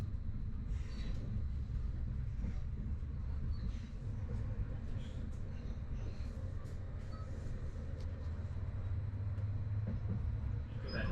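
An electric commuter train, a GySEV FLIRT departing Győr, Hungary, rumbles steadily from inside the carriage, low continuous rolling noise with faint clicks and rattles over the track.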